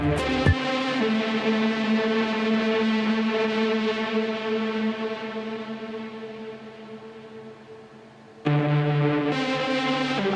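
Synth keys and leads from the Vital software synthesizer for a dark techno ambient set: a sustained, rich harmonic chord that holds and slowly fades, then a sharp new chord cuts in loudly near the end, with no talking.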